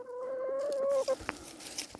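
Chickens near a potato patch give a sustained, wavering call that breaks into short clucks and soft scratching, close and fairly loud with no voices.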